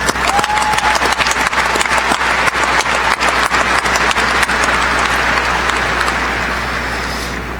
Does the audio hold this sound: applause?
yes